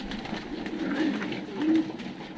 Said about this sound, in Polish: są tu gołębie